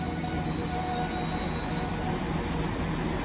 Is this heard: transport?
yes